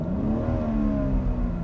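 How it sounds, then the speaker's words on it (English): 3-liter straight six of a BMW X3 M holding a steady, slightly rising rev, a close, even engine hum lasting under two seconds. "It will actually let me rev the engine"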